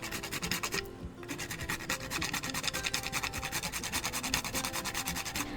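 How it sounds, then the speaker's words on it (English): Whole nutmeg rubbed rapidly against a grater into cassava pone batter, a steady rhythmic scraping rasp repeated many times, close and fairly loud, with one brief pause near the start. "I'm also going to grate my nutmeg in there."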